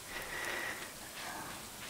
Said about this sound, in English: It's still raining, that's okay.